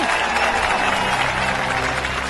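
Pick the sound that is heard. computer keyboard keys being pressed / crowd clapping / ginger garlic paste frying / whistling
crowd clapping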